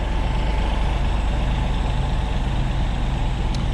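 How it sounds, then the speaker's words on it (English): A small old Mazda B-series pickup, a B1200 to B1600 with a small engine, idles steadily and loudly close by with a constant low rumble and no talk over it. "Oh, look at this little Mazda truck."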